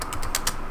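Computer keyboard typing a short command, several quick close key clicks in a brief burst.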